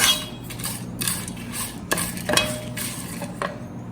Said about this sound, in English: Now I'll saute a little bit. On high flame I've kept it because the pan wasn't really hot.